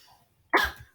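A single sharp cough bursts out after a near-silent moment, close and loud, then fades quickly.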